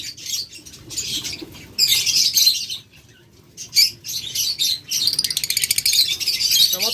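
Budgerigars, also called love birds, chirp and twitter in rapid, dense bursts close by, with short pauses between the louder flurries and faint fluttering underneath.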